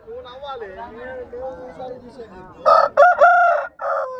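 Fighting rooster at a cockfight ground lets out a loud, close crow in several strong bursts near the end, after a stretch of quieter bird calls and murmuring voices.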